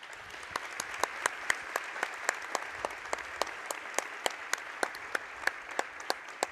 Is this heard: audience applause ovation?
yes